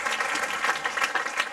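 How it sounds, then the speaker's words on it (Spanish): A church congregation at a Spanish-language convention in Toronto applauds, a dense, steady wash of many hands clapping together for the whole short stretch, with no clear voices rising above it. "Damos un aplauso grande a Jesús"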